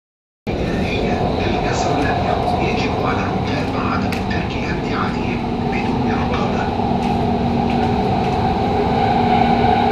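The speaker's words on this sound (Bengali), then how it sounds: "এই যে ট্রেন চলে এসেছে, উঠে বললাম আমরা ট্রেনে।" A driverless Doha metro train in Qatar rolls along with a steady, loud rumble and hum filling the carriage, a constant ride noise with no breaks.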